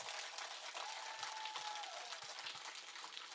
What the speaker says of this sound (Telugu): మీకోసం మీరు చప్పట్లు కొట్టుకోండి మాస్టర్స్.